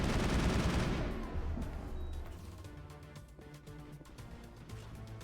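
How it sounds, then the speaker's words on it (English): Rapid bursts of automatic gunfire from a Mass Effect firefight on PC, loud and dense at first, then fading into scattered, quieter shots and background battle noise. "Dude, stop shooting me."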